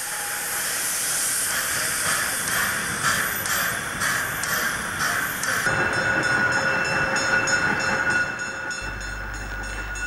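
An early-1930s 2-8-2 steam tank locomotive hauling a passenger train on an Eastern European line in the early 1990s, a loud continuous roar of hissing steam and rolling wagons with rhythmic chuffing pulses.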